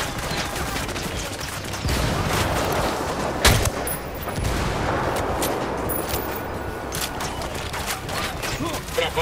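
A volley of loud gunshots rings out amid ongoing combat noise, with sharp cracks and a heavy blast partway through.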